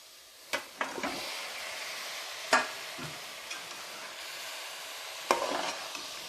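Curry leaves and mint being stirred in a pan for mutton kuzhambu, a soft low sizzle punctuated by a few sharp spatula taps and scrapes, fairly quiet, no speech.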